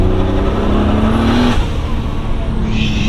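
A BMW E36 wagon pulls hard under acceleration, its engine note loud and continuous from inside the cabin, rising in pitch before shifting near the middle.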